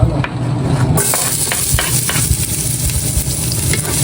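Garlic sizzles steadily in hot cooking oil, a dense close crackle and hiss with light stirring scrapes on top, no talking.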